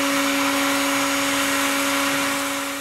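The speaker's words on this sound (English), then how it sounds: "I'm just going to grind it up a little" A power grinder working a PVC/ABS model boat bow gives a steady, loud, high whine that holds a constant pitch for the whole stretch with no talk.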